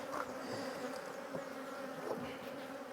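Honey bees buzz steadily around a beehive in an apiary, a dense continuous drone of many wings with a few individual bees passing closer, no voices.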